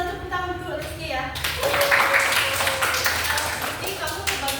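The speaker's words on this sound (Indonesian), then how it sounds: "Mungkin bisa tepuk tangan dulu Rizky ya." Classroom applause for a student named Rizky during a teaching practice lesson, a burst of many hands clapping that starts suddenly and continues steadily under faint voices.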